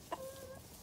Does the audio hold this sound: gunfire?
no